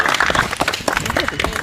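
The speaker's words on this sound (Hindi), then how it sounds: "ताली हो जाए ज्ञानमणि की।" A classroom audience claps for an exam topper at a group discussion session, a brief burst of scattered, uneven hand claps with voices mixed in.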